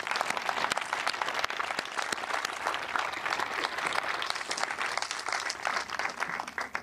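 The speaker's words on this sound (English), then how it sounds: "Please give them a round of applause." Audience applause rings out at an 11th Airborne Division military change of command ceremony in Alaska, a dense, steady clapping from a large crowd that holds for several seconds without pause.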